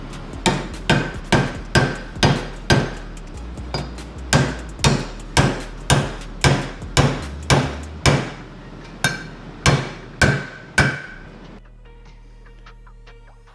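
A hammer drives a bearing race into the hub of a utility trailer wheel, striking about twenty loud, sharp metallic blows in a steady even rhythm, close up, then stopping.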